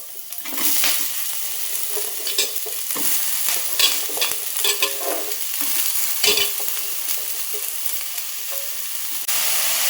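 Broad beans (avarakkai) frying in a pan for a poriyal, stirred steadily with a spoon, giving continuous close sizzling with repeated scraping strokes and no talk.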